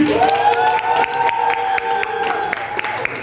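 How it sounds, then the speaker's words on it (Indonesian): A student audience at a public speaking talk show claps and cheers loudly, with bright sustained whoops and shouts riding over steady applause, close and lively, fading slightly toward the end. "Boleh tepuk tangannya teman-teman."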